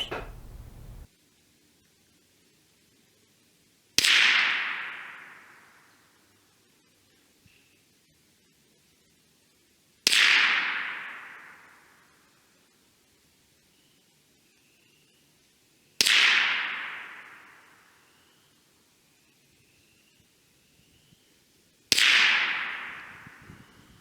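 Four sharp cracks of CCI Stingers fired from a Remington 581 .22 rifle, spaced about six seconds apart, each loud and close with a quick fading tail, and nothing else between the shots.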